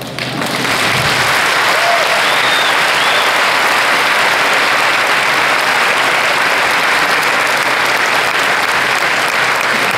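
An audience applauds at the opening of the Ciniselli Circus on the Fontanka, a dense, sustained clapping from a large crowd that stays loud and steady throughout.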